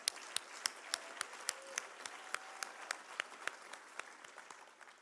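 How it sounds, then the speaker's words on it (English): Audience applause at a gala dinner, crisp individual claps sounding in a steady, sparse rhythm with no voices over them. "give her a round of applause"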